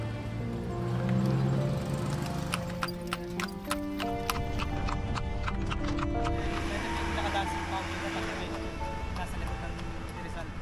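Lucky Charm, a carriage horse, clip-clops steadily on pavement while pulling a passenger carriage, a quick even rhythm of hoof strikes with a brief whinny, people talking over it throughout.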